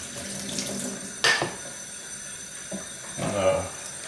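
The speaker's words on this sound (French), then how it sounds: "Le petit support, le poussoir, un petit coup de rinçage." Parts of a Severin ES3567 slow juicer are rinsed under a kitchen tap in a few short bursts of running water, with light clinks of plastic nearby.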